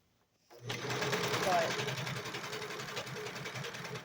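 A serger sewing machine runs steadily, stitching hemp cloth diaper fabric, starting abruptly after a brief silence with a continuous close mechanical whir and rapid rhythmic clatter.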